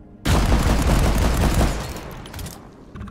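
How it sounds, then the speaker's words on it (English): A goofy modded shotgun fires in the mining shooter Deep Rock Galactic, opening with a sudden loud blast that becomes a dense, crackling rattle of rapid shots, then fades into scattered fainter pops. "Goofy shotgun."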